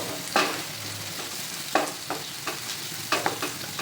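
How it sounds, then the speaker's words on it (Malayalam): Lentil and raw banana curry is stirred in a pan with a soft sizzle underneath, as a spoon scrapes and knocks in several separate strokes. "ഇനി ഇത് മൂന്നും പാടെ നന്നായിട്ട് മിക്സ് ചെയ്യാം"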